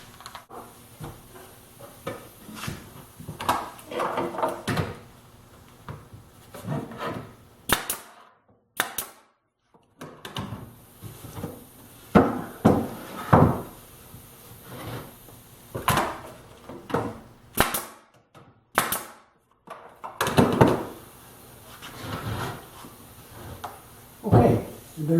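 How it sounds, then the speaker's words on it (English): Nails are driven by hammer into the wooden front of a planer stand, a series of sharp, close knocks in irregular bursts with short pauses between groups, loud and percussive. "Now, to retain the front, I'm just going to drive in"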